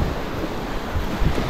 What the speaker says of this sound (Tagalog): Maalon, ay pakalma.